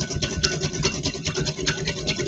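A whisk scraping briskly around a bowl while blending vinegar and about half a cup of oil into a salad dressing, a steady close rasping with no talk.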